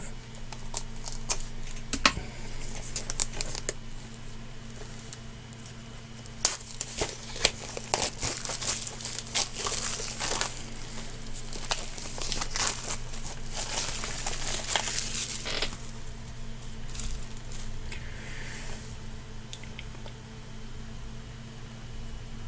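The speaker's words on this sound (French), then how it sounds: "Donc on va passer au déballage." Plastic wrap crinkles and tears off a 4K Ultra HD SteelBook Blu-ray case of Total Recall and Terminator 2, close and moderately loud, coming in irregular bursts with pauses and no talking.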